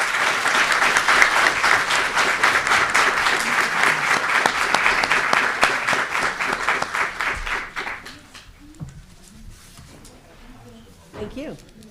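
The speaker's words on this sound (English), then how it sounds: "a round of applause for the candidates" Audience applause for the candidates at a League of Women Voters candidate forum, vigorous and rhythmic for about eight seconds, then fading to scattered claps as a few people speak quietly.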